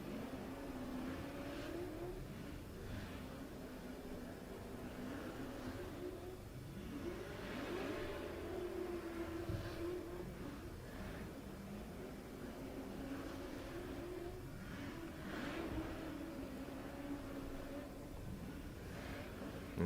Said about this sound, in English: See Nasser scrubbing in the tyres.